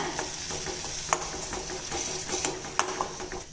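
A spoon scrapes and stirs through thick ground masala paste for paneer butter masala in a sizzling pan, with a couple of sharp metallic clinks, close and steady.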